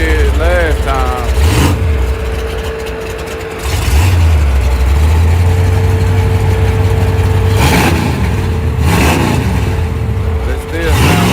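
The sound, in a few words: race car engine idling and revving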